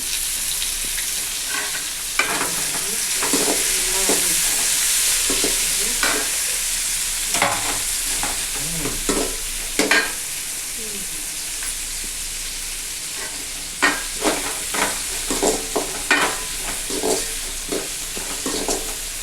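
Tomatoes fry in a pan with a steady sizzle, broken by repeated spatula scrapes and stirring knocks that come in short bursts, some clustered near the end.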